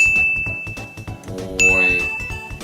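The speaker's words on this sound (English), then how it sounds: "Hold up, I keep getting notifications." A sharp, bright notification ding rings over loud background music, and a second ding follows partway through.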